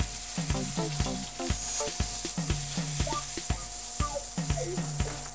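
Pot roast meat sears in hot oil in a pan, a steady close sizzle and frying hiss broken by regular scraping and stirring knocks, with no voices.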